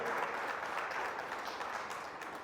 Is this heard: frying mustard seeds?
no